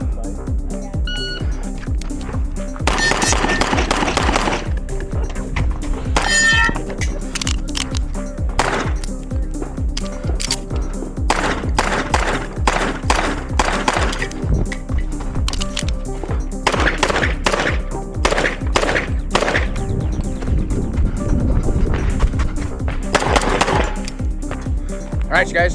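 Pistol shots ring out during an IDPA match stage in Sacramento, with bursts of sharp reports among clatter and handling noise. Voices speak faintly in the background.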